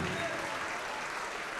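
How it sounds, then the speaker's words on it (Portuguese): A congregation claps at a televised church program, a dense, distant-sounding wash of applause that holds steady throughout. "Vamos aplaudir mais ao nome de Jesus"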